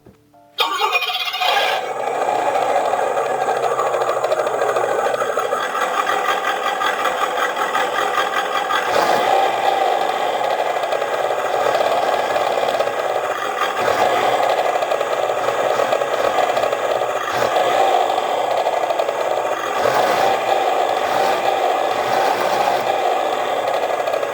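Petrol engine of a WPL C44 KM RC truck running steadily and loudly up close for the whole stretch, a buzzy continuous drone with slight rattles and a few brief dips in revs.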